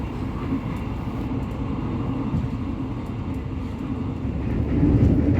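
The Joglosemarkerto passenger train runs at about 94 km per hour, heard as a steady low rumble and roar from inside the carriage, swelling slightly louder near the end.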